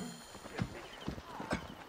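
Horse hooves in Assassin's Creed Origins on PS4 Pro: a few distinct, close clip-clop strikes spaced about half a second apart over game ambience.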